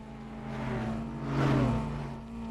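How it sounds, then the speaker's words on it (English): Mazda RX-7 engine in the racing game Need for Speed Undercover, a quiet steady hum that swells to a brief louder rev in the middle before settling, heard alone. "I like how the car's engine sound is like super quiet compared to everything else."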